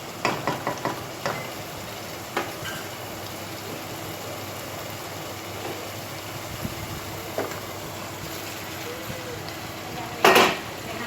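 Fried potatoes tipped into a cooked masala in a pan, giving a low continuous sizzle with scattered utensil scrapes and clinks, a cluster of taps at the start and a sharp clatter near the end, heard close with no talking.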